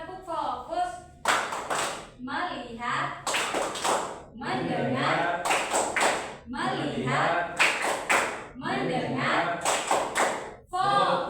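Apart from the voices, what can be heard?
class doing rhythmic 'tepuk fokus' clapping routine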